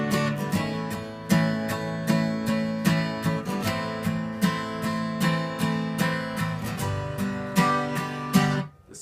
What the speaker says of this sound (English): There are 3 different strum patterns we're going to use with these chords.